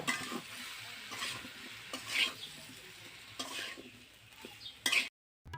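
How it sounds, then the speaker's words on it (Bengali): Thick-cut brinjal and spices being stirred in a pan, with repeated close scraping and clinking of a spoon against metal over a soft frying sizzle, ending in a sudden cut to silence. "এখন আমি বেগুনের সাথে আবারও মশলাগুলো কিছুক্ষণ ভালোভাবে মিশিয়ে নেব।"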